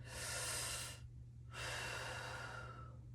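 Two long breaths through the mouth, one after the other with a short pause between, steady airy rushes heard close and alone at a low level.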